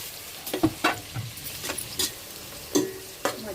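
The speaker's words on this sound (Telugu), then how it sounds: "మధ్యలో ఇలాగా కలుపుకోవాలి. కొంచెం కలర్ మారేంత వరకు కలుపుకోవాలి." Tomato rice ingredients sizzle in a hot pan while a spatula stirs them, giving several distinct scraping strokes over a steady frying hiss. It is close and clear, with no talking.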